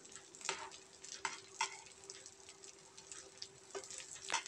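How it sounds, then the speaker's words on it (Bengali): Whole garlic cloves and chopped onion frying in oil, a faint steady sizzle broken by a few sharp clicks as they are turned, with a low steady hum underneath. "আস্ত রসুন দিয়ে আমরা এপাশ ওপাশ করে সুন্দর করে ভেজে নেব।"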